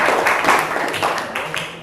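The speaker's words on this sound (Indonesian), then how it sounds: "beri tepuk tangan buat Astawana" Classroom applause for a student after a group guidance session, a dense wash of clapping hands from the class, fairly loud and steady, tapering slightly toward the end.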